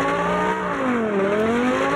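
A car in the racing game Drive Zone Online drifts, its engine holding a steady revving tone that dips and climbs again as it slides, loud and close, with no voices over it.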